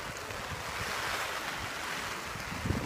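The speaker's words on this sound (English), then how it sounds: "The rain is kind of crazy right now." Heavy rain at an outdoor waterpark, a dense continuous hiss and roar with gusty wind noise on the microphone, steady and fairly faint throughout.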